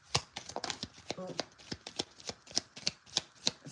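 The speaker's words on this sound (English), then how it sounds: "One more shuffle." A deck of tarot cards is shuffled by hand in a series of crisp, close riffling snaps at a fairly regular pace, with a voice speaking briefly in between.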